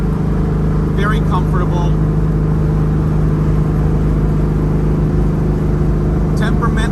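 A 1970 Dodge Challenger cruising at speed in fourth gear, a loud, steady engine drone and road roar filling the cabin, with brief talk over it.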